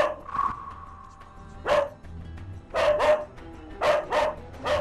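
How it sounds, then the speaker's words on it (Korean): Aggressive dog barking fiercely at its owner, a series of sharp, loud barks in uneven bursts, some doubled in quick succession, with short gaps between them and no talking. "보호자가 눈을 마주치지 않자 더욱 맹렬히 짖는 희망이"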